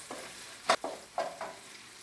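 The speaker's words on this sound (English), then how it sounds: "You also stir fry like 30 seconds." Carrot, pepper and sausage are stir-fried for a pineapple fried rice, with a handful of quick spatula scrapes and tosses in the pan at an uneven rhythm, close by and with no talking.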